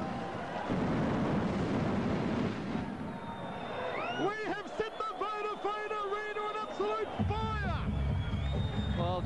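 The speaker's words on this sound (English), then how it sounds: "Just a little bit of pyros happening ringside" Ringside pyrotechnics burst at a kickboxing event in Melbourne, a sustained roaring whoosh, loud and close, mixed with crowd noise and an announcer speaking over the arena.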